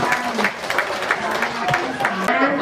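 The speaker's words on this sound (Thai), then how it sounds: "เอาเสียงปรบมือดังๆค่ะ" Audience claps steadily at a school building handover ceremony in Phitsanulok, Thailand, with a voice speaking over the ongoing applause.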